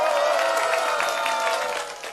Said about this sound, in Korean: 기자분들한테도 박수 한번 해주세요.